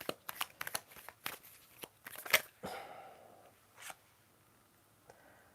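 Tarot cards shuffled for a reading, a run of quick riffling and snapping bursts up close, then softer sliding rustles that fade into near silence.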